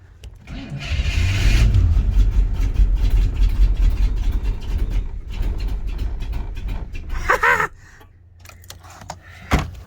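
A barn-find 1977 Chevrolet Suburban, unstarted for about 15 years, cranks and catches, then runs with a rough, uneven loud engine note that sputters down near the end.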